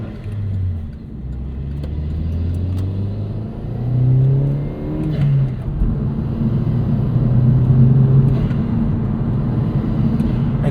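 A 2009 Chevrolet Cobalt SS turbo engine revving while driving, its tone climbing and dropping through several rises in pitch, loud and close from inside the car, with a low road rumble underneath and no talk.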